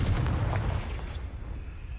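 A Confringo fire spell bursting in Hogwarts Legacy, a loud, rumbling blast that rolls out and fades over about two seconds with no talking.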